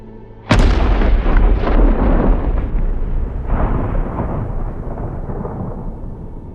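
A single hunting rifle shot firing a 180 grain bullet at a stag during the roar rings out sharply and loudly outdoors, then its booming echo rolls and decays across open country for several seconds.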